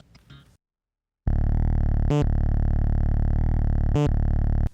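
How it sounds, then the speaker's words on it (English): A Boss RC-505 MKII loop station plays a sustained buzzing bass tone shifted in pitch by its transpose effect, loud and steady, broken by two brief sharp clicks, after a short burst of soft noise and a silent gap. "The transpose effect can be applied to change the pitch of the sound like this."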